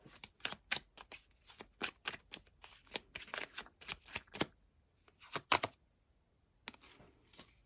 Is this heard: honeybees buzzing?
no